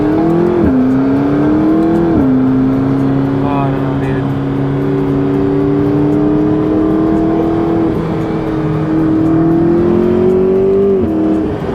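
A McLaren 650S sports car engine drones steadily and loudly throughout, its pitch stepping up and down with gear changes and throttle, while a person talks briefly over the cabin noise.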